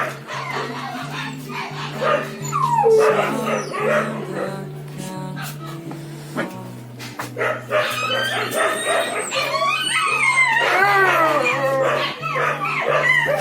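Several dogs bark, yip and howl inside a populated animal shelter with grilled cell gates, a dense overlapping chorus close by that continues throughout, with a steady low hum underneath and occasional voices mixed in.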